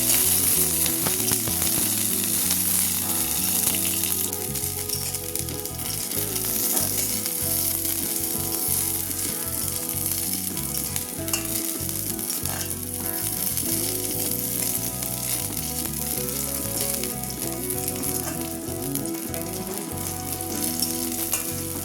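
Garlic and green chili fry in a little oil in a pan, giving a loud, continuous close sizzle with no one talking.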